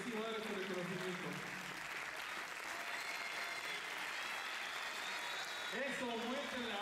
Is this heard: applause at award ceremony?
yes